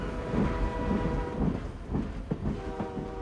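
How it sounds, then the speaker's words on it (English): A train winds through a corkscrew spiral tunnel in the mountains, its wheels thumping in a steady rhythmic clatter under a constant rumble, close and moderately loud, with no one talking. "this is the same train winding its way through a spiral tunnel"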